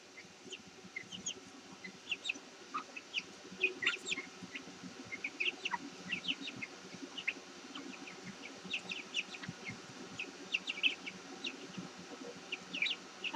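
Chickens cluck and peep around a house, a busy scatter of short calls near and far over a quiet background, continuing throughout.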